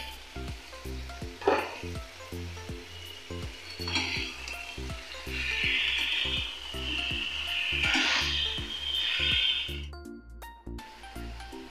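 Boiled vegetables hit a pan of spice paste thinned with hot water and fry with a loud, continuous sizzle. Stirring scrapes and utensil knocks sound up close, and steady low thumps run underneath.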